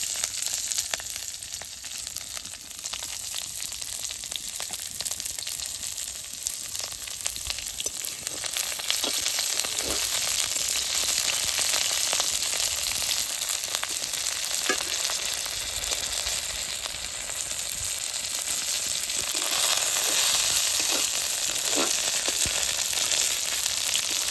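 Chili and garlic sizzle steadily in a hot pan for shutki bharta. The frying hiss is close and continuous, broken by occasional small pops and faint stirring scrapes, with no speech.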